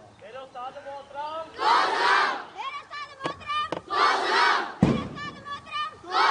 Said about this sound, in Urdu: تالیاں بجا دیں، زوردار تالیاں